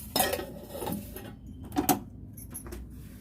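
A metal pot clanks as it is set down on a kitchen stove, with a few sharp knocks and scrapes of cookware close by, then quieter handling noise.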